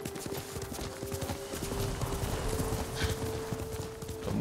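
Horse galloping in the video game Ghost of Tsushima, a quick run of hoofbeats at a steady rhythm over a low sustained tone and ambient wind, close and fairly loud.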